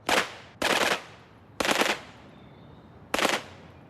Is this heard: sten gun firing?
yes